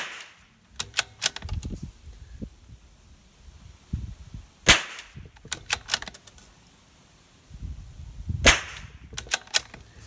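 A Tikka T1x rifle fires two sharp, loud shots several seconds apart, with lighter mechanical clicks and rattles scattered around them in a quiet outdoor setting.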